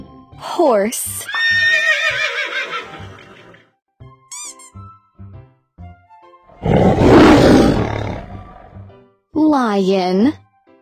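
A horse whinnies loudly twice, a high descending neigh near the start and another near the end, with a breathy snort-like burst in between and a few short spoken words in the gaps.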